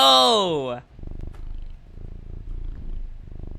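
Cat purring in the video game The Radio Tower: a brief harmonic purr-like sound at the start, followed by a low rumbling continuation beneath someone talking.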